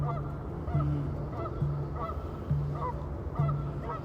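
Geese honk in a steady, repeating rhythm, roughly one call every second, clear and fairly close over a soft natural background during a guided ancestral healing meditation.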